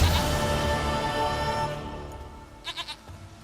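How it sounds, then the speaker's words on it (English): A goat in The Witcher 3: Wild Hunt gives a short burst of three quick bleats near the end, following a stretch of layered game music and ambience. "Goat of mine, dearest, sweetest goat."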